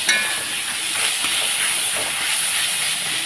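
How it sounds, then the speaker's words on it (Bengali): Chopped onions fry in a hot pan with salt while a dried sea fish curry is cooked, giving a steady, close, unbroken hiss and sizzle that holds for the whole stretch. "সুন্দর করে ভেজে নিচ্ছি পেঁয়াজটা"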